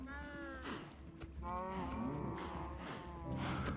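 Cattle low in a series of long, drawn-out moos, about three overlapping calls, fairly faint and heard alone with no talk.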